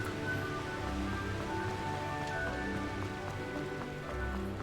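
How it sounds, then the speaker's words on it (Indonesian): Light drizzle falls in the Hogwarts Legacy video game, making a soft, steady patter that continues evenly throughout without any voices. "Agak gerimis-gerimis kayaknya."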